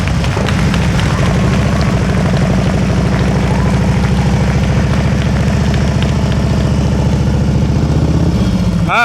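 A motorcycle engine idles and putters steadily at low revs during slow-speed riding drills, loud and close, holding an even rumble throughout with no talk over it.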